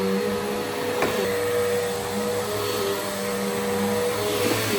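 A Bissell Powerforce 75Q1-E upright vacuum cleaner runs steadily with a constant motor whine and airflow hiss, close and even throughout, with no voices.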